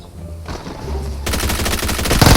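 PP-19 Bizon submachine gun firing in PUBG Mobile: quiet ambience at first, then loud sustained rapid automatic bursts that build and continue to the end, close and dense.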